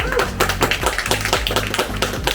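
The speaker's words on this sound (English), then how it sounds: "let's have a round of applause for him" Steady applause from a small crowd welcoming a presenter at a remote viewing talk, brisk overlapping claps with a low voice murmuring underneath.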